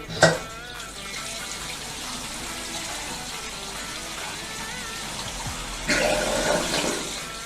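Water drains out of a white plastic Wirquin Senzo sink trap under a bathroom basin. A steady close gurgling rush runs throughout and swells louder near the end as the basin empties.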